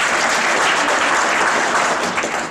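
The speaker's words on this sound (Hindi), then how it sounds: "तालियां बजाकर स्वागत करें।" Audience applause welcoming a guest at a municipal cleanliness survey event in Churu, dense continuous clapping from a large crowd, loud and steady, tapering slightly at the end.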